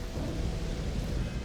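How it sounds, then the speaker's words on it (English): Thunder from lightning in the video game Starfield, a low, dense rolling rumble with a rain-like hiss, steady and moderately quiet throughout. "Ooh, lightning."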